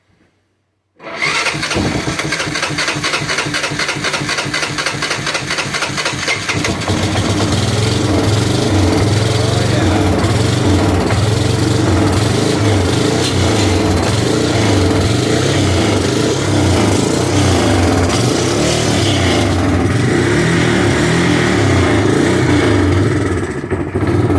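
A long-abandoned Honda Fortrax ATV with fuel fed straight to the carburetor cranks with a rapid starter chug, catches after a few seconds and settles into a loud, steady, close rattling idle with no talking.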